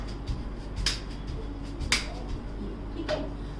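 Hands clapping overhead during a yoga exercise session: a few sharp, separate claps, roughly one per second, fairly close, over faint background noise.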